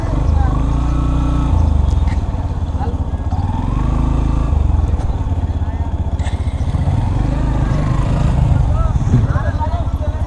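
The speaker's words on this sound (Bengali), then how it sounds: "দেখি গাড়িটা একটু নিচে নিতে পারে কিনা মোটরসাইকেলটা" A motorcycle engine runs loud and close as the bike heads down onto deep sand on a ride from Dhaka to Cox's Bazar, its steady drone shifting in pitch throughout, with speech mixed in.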